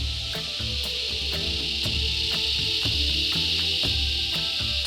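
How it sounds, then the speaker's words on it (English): A deafening chorus of razor grinder cicadas in the Australian bush, a dense continuous high buzzing with rhythmic pulsing clicks layered throughout, loud and close all around. "The other thing that tells me there's cicadas around is this deafening chorus around us. And they are razor grinders."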